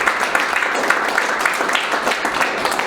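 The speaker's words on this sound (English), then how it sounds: "They deserve a round of applause." A round of applause from an audience, a continuous dense patter of many hands clapping at an even level, with no voices standing out.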